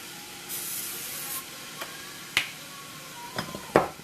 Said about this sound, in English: I'm going to still spray my top with a little bit of my oil because that's just what I do.